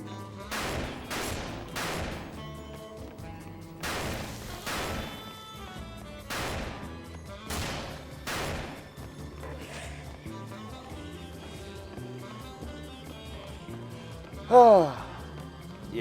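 A machine gun fires in Dead Rising, with several separate sharp bursts of shots spaced over the span and one louder crash near the end, set against game background sound and a voice talking.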